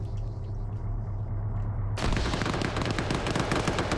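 Video game combat: rapid gunfire and booming blasts from grenades being thrown, with a dense, loud burst of shots taking over after a steady low rumble.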